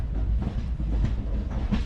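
A train rumbles at Jammu railway station, a steady low mechanical drone with faint rattling throughout, no voices on top.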